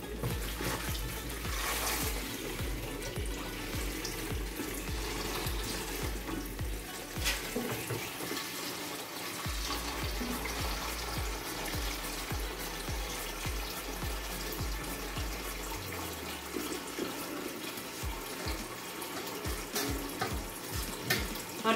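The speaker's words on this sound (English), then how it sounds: "So we let out this smelling water." Smelly fermented cassava soaking water being poured out while processing cassava for fufu, a continuous splashing, gurgling flow like a running tap, close and moderately loud for the whole stretch with no talk.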